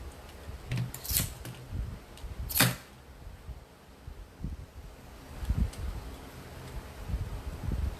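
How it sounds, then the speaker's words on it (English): Paper roses at the base of a wreath get stapled with a few sharp, close clicks. Two clicks stand out, and quieter handling noise fills the gaps. "I'm going to staple them at the very, very bottom that you're not going to see"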